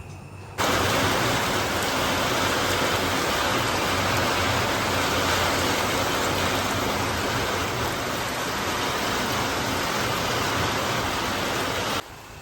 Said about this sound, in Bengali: আর দেখো কি স্পিডে বৃষ্টিটা হচ্ছে।